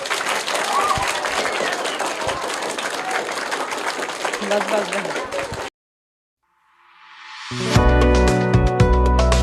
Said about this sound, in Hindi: तो इनके लिए जोरदार तालियां हो जाएं